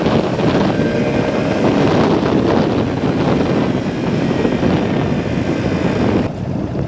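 Strong wind roaring across a microphone during a motorcycle ride on an MT 125, a loud, steady broadband rush that fills the whole stretch and drops slightly near the end, with no talking.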